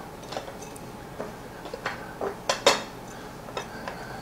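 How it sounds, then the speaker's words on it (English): Granola bar ingredients with almonds being stirred in a bowl in a home kitchen, giving scattered light clinks and scrapes of utensil against dish, fairly quiet and irregular. "Go ahead and add the almonds. Good job. Mix these all up nicely."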